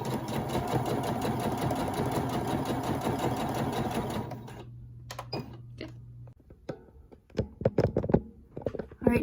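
A sewing machine stitching fabric for a reversible tote bag, a steady fast mechanical whir for about four seconds, then stopping into scattered clicks and handling taps.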